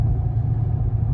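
A cammed Dodge Challenger Scat Pack with the 6.4 engine idles with a low, heavy rumble that pulses unevenly in a choppy rhythm, loud and close with no talk.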